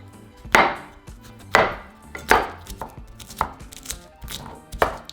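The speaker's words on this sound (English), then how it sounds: "we're going to throw in 3 garlic cloves in our molcajete, and we're just going to smash them" Garlic cloves pounded in a stone molcajete give sharp, heavy thuds, about six strikes spaced roughly a second apart, close and alone.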